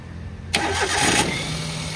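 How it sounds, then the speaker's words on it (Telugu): A 2011 Maruti Suzuki Alto LXI petrol engine cranks and catches after a moment of quiet, settling at once into a steady, close idle. "ఒక్కసారి వెహికల్ స్టార్ట్ చేసి ప్రిపేర్ చేసి చూసుకోవచ్చు"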